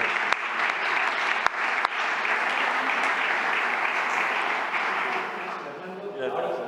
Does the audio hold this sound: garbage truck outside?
no